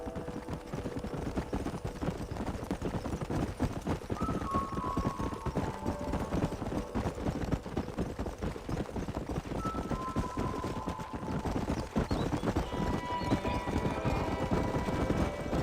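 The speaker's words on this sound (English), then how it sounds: "Olhar para cavalos." Horse hooves clip-clop steadily along in the video game Red Dead Redemption (PC), under a thick wash of background noise and music, with a few faint whinny-like tones drifting in.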